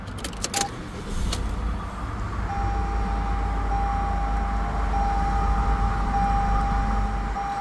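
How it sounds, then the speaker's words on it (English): A 2020 Toyota C-HR is started, with a few clicks and chimes before the engine catches after about a second and settles into a steady, smooth idle hum while a faint warning tone sounds. "Let me go ahead and start the car so you can see the current mileage and everything else."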